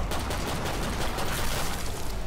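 Dense, rapid pistol fire in Killing Floor 2 crackles continuously at close range, with shots blurring into a sustained burst.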